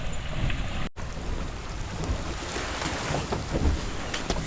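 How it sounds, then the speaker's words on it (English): A Mini Transat sailboat speeds through open ocean waves, with steady rushing water and wind noise close to the microphone, broken by one brief dropout near the start, and no voices. "Finally, some beautiful speed sailing."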